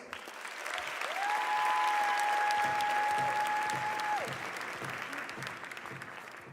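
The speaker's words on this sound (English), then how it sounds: "Let's give her a round of applause." An audience at a Baltimore mayoral inauguration gives a rabbi a sustained, moderately distant round of applause that swells and slowly tapers, with a faint tonal whistle briefly over it.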